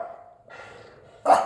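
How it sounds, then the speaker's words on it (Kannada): A dog barks once, loudly and at close range, after a stretch of quieter low sounds, with no talking. "ಅವ್ರದ್ದು ಹೊಸ ನಾಯಿ"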